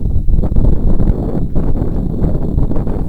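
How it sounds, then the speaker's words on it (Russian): Gusty wind buffets the microphone in loud, uneven bursts, rising and dipping over a few seconds with no voices, out on a fishing boat at the mouth of the Kazanka river. "Ветер еще."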